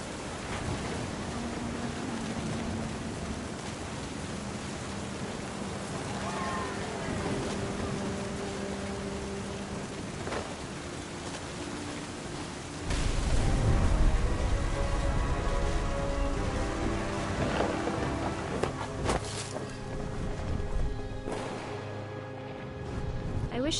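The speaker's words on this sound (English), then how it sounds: "The thunder sounded much too close and full of angry power." Rain and thunder of a storm in the video game What Remains of Edith Finch, steady rainfall hiss with a deeper rumbling surge partway through, under narration.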